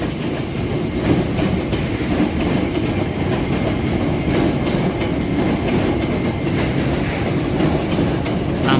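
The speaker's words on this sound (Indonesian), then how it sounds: "Nampak lalu lalang kereta di atas terowongan Belanda" A long commuter train rumbles across an old Dutch colonial-era railway tunnel near Manggarai station, a loud continuous roll with rhythmic clickety-clack of wheels on rail joints and faint squeals throughout.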